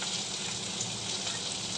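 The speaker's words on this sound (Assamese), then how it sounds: "ভালকৈ ভাজি ল'ম গোন্ধটো নোযোৱালৈকে" Turmeric frying in hot oil while masala okra is cooked, a steady close-up sizzle with a watery hiss that holds evenly throughout, with no voices.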